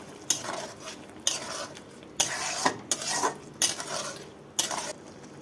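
Prawns and brinjal being stirred into frying masala in a pan, with repeated bursts of spatula scraping and sizzling at a steady rhythm of about one per second, close and clear, without talk.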